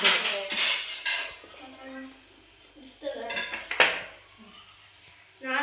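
Ragi dough rolled and pushed into a shavige press, producing irregular metallic clanks and clatter up close, with a voice speaking briefly between the knocks.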